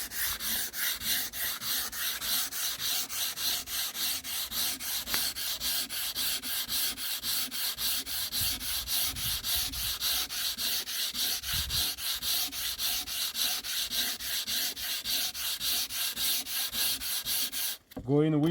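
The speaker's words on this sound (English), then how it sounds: "Then we use the 120 grit sandpaper." Wood sanded by hand with 120 grit sandpaper, a steady, continuous rhythmic rasping of strokes that stays loud and even throughout, ending with a brief pause and a final few scrapes.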